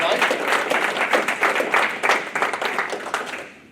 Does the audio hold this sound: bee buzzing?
no